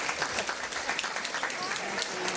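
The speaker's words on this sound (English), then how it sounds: "Round of applause for the class officers." An audience at a 2007 Roseville High School reunion applauds the class officers, a steady, even wash of clapping that lasts throughout.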